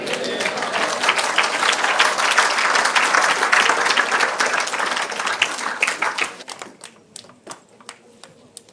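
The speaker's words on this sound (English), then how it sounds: "One more big round of applause for His Holiness Bhakti Bringer Govinda Swami" Applause after a spiritual lecture by Bhakti Bhringa Govinda Swami in Australia: a full, dense round of crowd clapping that thins out to scattered individual claps toward the end.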